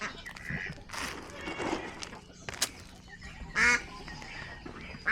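Ducks and geese quack and honk in short, scattered bursts while being fed outdoors alongside a rooster, moderately close with a couple of louder calls near the end.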